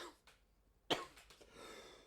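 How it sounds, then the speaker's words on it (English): A person lets out a single sharp cough, close and fairly quiet, with faint breathing and throat noises before and after it. "God damn, if you don't quit coughing."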